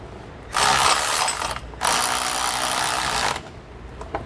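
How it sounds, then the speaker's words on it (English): A socket wrench with a 19 mm socket ratchets rapidly while tightening suspension bolts on a 2020 Grand Design Momentum 5W, producing two loud, close bursts of dense clicking with a short break between them. "We're gonna use a 19 millimeter socket and wrench to tighten them down."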